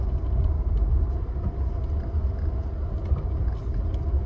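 A car driving on a road gives a steady, continuous low rumble of engine and tyre noise from inside the cabin, with no talk.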